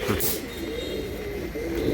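A pigeon coos in low, rolling phrases while held in someone's hands, with a faint rustle and the birds' throaty murmur running steadily.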